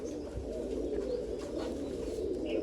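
A large pigeon coos in low, rolling murmurs close by, repeating steadily over a faint background hum.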